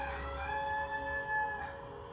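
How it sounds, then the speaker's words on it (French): A rooster crows in a single drawn-out call, faint and somewhat distant, with a low rumble of background noise beneath it. "Vous voyez que M. Cocorico au rendez-vous."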